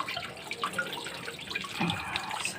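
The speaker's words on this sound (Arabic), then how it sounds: "نميلها كده عشان تصفي الميه اللي فيها" Water drains and trickles from a fish tilted head-down during preparation of fesikh for the Eid meal, giving faint, uneven splashes and drips over a few seconds.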